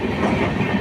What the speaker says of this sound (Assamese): আমাৰ ট্ৰেইন গৈছে দক্ষিণৰ লাইনেৰে।